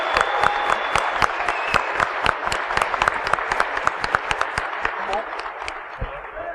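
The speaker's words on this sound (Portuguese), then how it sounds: "uma salva de palmas aqui para eles" An audience at a PHP developer meetup talk applauds the presenters in a steady burst of dense, sustained clapping that holds for several seconds and then tapers slightly.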